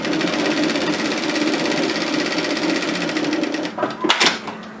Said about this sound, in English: I'm going to start off by sewing from the wrong side through the overlocking line in a straight line.